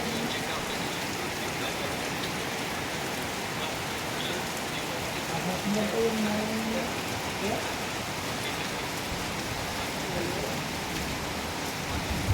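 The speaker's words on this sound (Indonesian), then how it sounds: "Hujan aja." Steady rain falling on surfaces during a ride near Kelok 44 and Danau Maninjau, with a continuous hiss at constant level, a faint brief tone in the middle and no clear talk.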